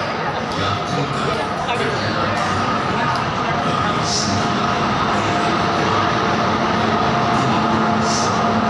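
Twin WAG 9 electric locomotives haul an ICF parcel van train at a railway station, a steady loud rolling rumble of wheels on track with faint clatter, continuous throughout.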